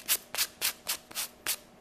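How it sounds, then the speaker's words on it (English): A sanding block scrubbing the edges of a paper coaster in six quick, even strokes, a close, soft rasping rhythm with no talking. "you're just going to take that and scrub your edges a little bit"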